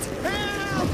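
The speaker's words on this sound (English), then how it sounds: "What's with the overgrown demon cats?" Overgrown demon cats in The Witcher 3 give a drawn-out, wavering yowl, loud and close against steady background noise, lasting about a second.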